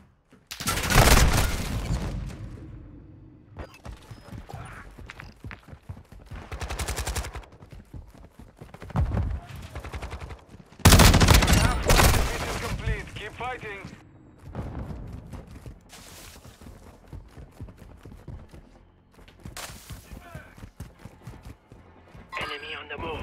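Bursts of gunfire from a Call of Duty: Modern Warfare II firefight, loud and close, with heavy volleys near the start and again around the middle, plus scattered shots and clatter between them. Speech-like game chatter runs underneath.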